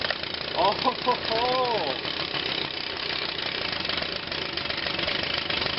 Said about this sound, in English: let's see how the blower will start at 17 degrees